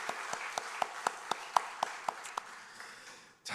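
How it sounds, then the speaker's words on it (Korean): Church congregation at a Korean Sunday service clapping together for summer event helpers, a run of loud, evenly spaced claps in unison that slows and stops near the end, with no talking over it. "우리 사랑하는 성도들 다시 한번 이번에는 수고했다고 우리 박수 한번 할게요"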